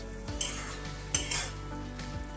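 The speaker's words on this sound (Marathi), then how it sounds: "मोठ्या गॅसवरती थोडीशी परतून घ्यायची" Chickpea leaf greens are stir-fried over a high flame. A spatula scrapes and tosses them in the pan a few times over a low, steady sizzle, with no talking.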